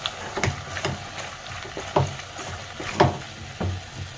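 Chicken shami kabab ingredients are stirred in a pan over a gas flame, with a soft sizzle under repeated scraping and knocking strokes of a spoon at an uneven rhythm.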